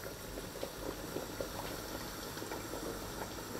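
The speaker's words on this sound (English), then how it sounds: "The soup is bubbling nicely," Mutton soup bubbling in a pot, a quiet, continuous simmer with small irregular pops and gurgles, faint and close with no talking.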